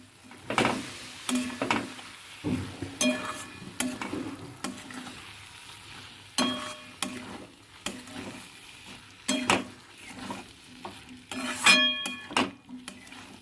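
A spoon scrapes and clinks against a pan as seasoned food fries, giving irregular bursts of stirring over a quiet sizzle, with short pauses between strokes.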